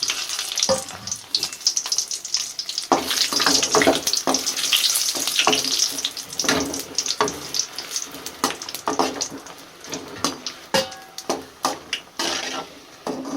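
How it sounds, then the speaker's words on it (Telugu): Dry red chillies frying in hot oil give a loud, close crackling sizzle with sharp pops and intermittent stirring scrapes throughout, with no voices. "ఆయిల్ అయితే కాగిపోయింది ఎండు మిరపకాయలు"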